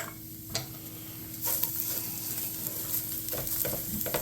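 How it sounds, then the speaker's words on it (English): Shredded cabbage and diced onions with pepper and salt sautéing in a pan, a soft continuous sizzle with intermittent scraping and stirring clatter nearby, no voices. "we're going to add our shredded cabbage, diced onions, a little bit of pepper, a little bit of salt"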